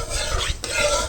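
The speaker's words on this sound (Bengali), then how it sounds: "ফোড়নটা একটু নাড়াচাড়া করে ভেজে নেব" A dried red chilli, bay leaf and whole garam masala sizzle in hot oil as a spatula stirs and scrapes them around the pan in a short, close burst.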